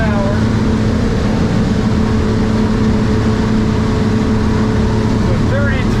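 A 2025 Stabicraft 2250 Ultra center-console boat under way at about 33 mph, its F300 outboard engine droning steadily and close by, with constant water and hull rush throughout; a voice talks briefly over it.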